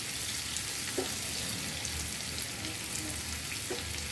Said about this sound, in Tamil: லைட் ப்ரௌன் ஆகுன வரைக்கும் இப்படி ஒன்று கிளறி விடலாம்.